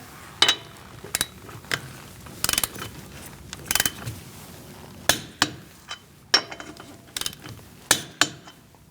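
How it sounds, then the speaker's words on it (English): Lug nuts on a 2016-2019 Chevrolet Cruze wheel being torqued with a 19mm socket, a series of sharp metallic clicks and ratcheting bursts at irregular intervals, close and fairly loud, with no talk. "Using a 19mm socket, we're going to torque our wheels to 100 foot-pounds."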